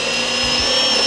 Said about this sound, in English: flushed it up with the front and drill it in place